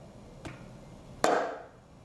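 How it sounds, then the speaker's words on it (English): Rubber end of a hammer tapping the rod bolts of a stuck rod cap on a Nissan KA24DE engine during teardown, two dull knocks close by, the second one louder with a short ring. "take the rubber end of the hammer and tap down on the rod bolts"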